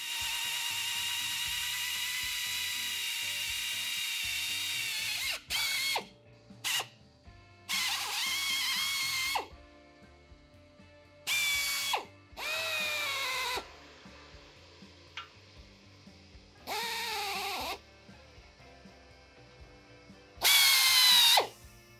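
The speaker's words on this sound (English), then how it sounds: "So we're gonna drill this out and then we're gonna bolt this on." Power drill boring holes through a metal fender plate for a Sportster motorcycle: several separate whining bursts a second or two long, close and loud, with quiet pauses and faint workshop clatter between them.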